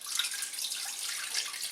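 Three and a half cups of water with Lipton beef onion soup mix pouring steadily into a saucepan, a continuous close splashing wash with no talk.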